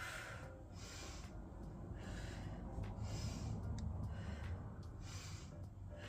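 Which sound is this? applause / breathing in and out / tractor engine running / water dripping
breathing in and out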